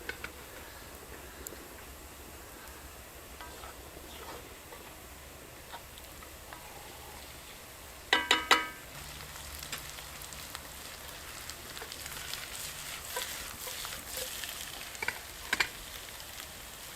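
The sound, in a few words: potatoes reheating over a campfire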